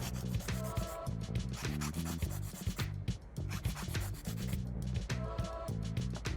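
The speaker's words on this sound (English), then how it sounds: "When you file, you want to be careful so that way you don't file off the flowers." A nail file rasps back and forth over gel-encapsulated nails in a quick, steady run of close rubbing strokes that continues without a break.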